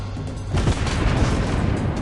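Naval gunfire in World of Warships Blitz strikes a target, a heavy rumbling boom that swells and lingers as a dense low roar for a couple of seconds.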